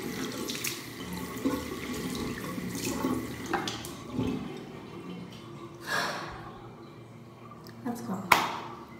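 Water running steadily from a bathroom sink tap while someone washes their face, a continuous splashing rush with brief louder splashes, close and fairly loud throughout.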